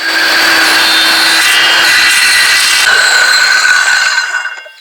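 A loud hand saw or power saw cuts steadily through warped pallet wood for several seconds, a continuous rasping rip that ends as the blade breaks through and the noise dies away.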